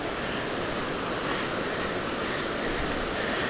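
Divide Creek rushes into the Gray Wolf River on a spring hike in the Olympic forest, a steady, dense wash of flowing water with no breaks, heard close and constant.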